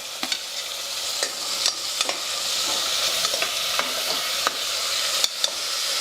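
Curry leaves fry in hot oil for a pudina pulao, giving a steady bright sizzle with occasional stirring clicks and scrapes against the pan, close and continuous with no voices.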